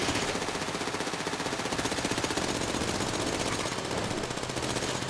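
Rapid automatic gunfire from GTA 5 Online, played during an online heist, rattles on continuously for the whole stretch, loud and dense with bursts overlapping, no voices over it.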